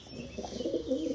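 Pigeons or doves coo softly near the recording spot, a brief low warbling call, fairly close and alone.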